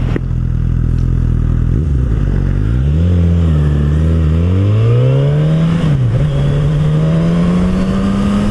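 A naked motorcycle revs hard and accelerates up through several gears, its loud, close engine note climbing in pitch again and again with brief drops at each shift, no talk over it.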